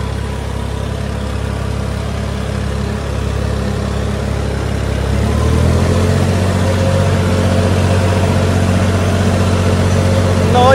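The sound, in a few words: Massey Ferguson 9500 Smart 4wd tractor engine in field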